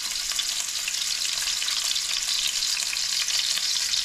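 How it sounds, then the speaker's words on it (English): Wild hog pork chops fry in hot grease with a loud, steady, close sizzle and crackle, with no talking. "pick that pork chop up and set it in that grease"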